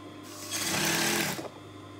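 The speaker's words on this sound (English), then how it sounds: "As you are sewing," A sewing machine stitches a dress seam in one short, close, rapid whirring burst of about a second that starts and stops abruptly.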